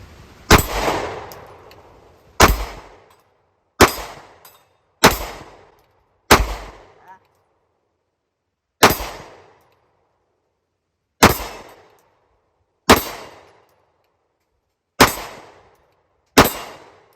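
A Smith & Wesson Shield Plus pistol fires about ten sharp, loud shots at an irregular pace, each a close, cracking report with a short ringing decay, quiet gaps between them.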